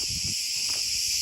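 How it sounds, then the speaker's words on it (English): Cicadas buzz loudly and continuously from the trees along a rough road on Crete, a dense, shrill drone filling the whole moment. "the cicadas are so loud"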